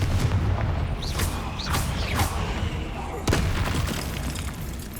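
The Confringo blasting spell in Hogwarts Legacy lets off booming, explosive bursts with whooshing magical sweeps, against a loud, rumbling game backdrop and a sharp impact near the middle.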